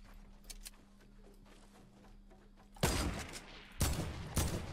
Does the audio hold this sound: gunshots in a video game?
yes